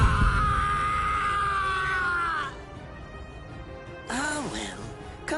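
A man screams in pain in the Bleach anime: one long, strained cry that wavers and breaks off, then a shorter anguished cry a second later.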